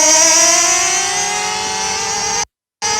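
HSP Lacerea 94763 1/8 scale nitro RC cars race in a drag run, their small engines giving a loud, high-pitched sustained whine that falls slowly in pitch, then cuts out abruptly before briefly returning.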